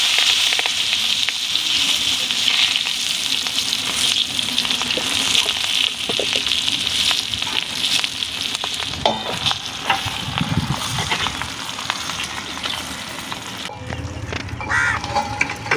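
Fish wrapped in banana leaf sizzles loudly in a pan, a dense continuous crackle that eases slightly in the last seconds, with a few faint clinks and knocks along the way.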